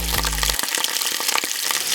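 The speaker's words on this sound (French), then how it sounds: "Je vais faire roussir d'abord le bœuf, après le porc, après la saucisse." Beef browning in a pan for a Sète-style macaronade gives a loud, steady sizzle with crackling spits throughout, preceded briefly by a low hum.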